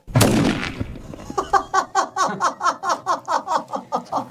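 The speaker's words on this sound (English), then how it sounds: "Just like in GoldenEye, the pen grenade will be fired from the top pocket of the dummy." A pen grenade fired from the top pocket of a test dummy blasts with a loud, sharp explosion, then a run of rapid rhythmic popping bursts follows for several seconds, with no voices over it.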